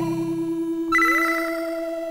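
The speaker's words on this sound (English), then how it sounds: "Now some of these with the arpeggiator turned on, it's going to sound different when we play a chord." A retro game-style synth chord plays through the BitFlip plugin with the arpeggiator on, starting as a steady buzzy tone and shifting into bright, chirpy rapidly cycling notes, heard alone.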